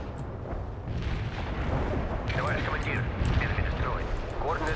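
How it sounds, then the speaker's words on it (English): Artillery barrage explosions from the strategy game World in Conflict, a dense, continuous rumble of booms and blasts with radio-style voices and chatter over the top throughout. "Launching a barrage. Artillery strike on the way."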